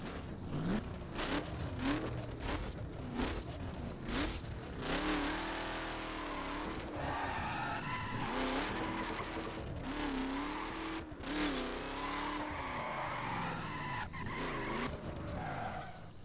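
A Chevrolet Silverado built like a NASCAR-dragster funny car tears around in the racing game The Crew, its engine revving and swooping up and down with repeated tire squeals and skids throughout.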